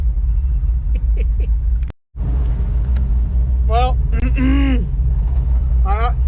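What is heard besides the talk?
farm truck engine idling in line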